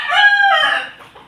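A young rooster (stag) gives a single loud, close crow that rises and then trails off, lasting just over a second.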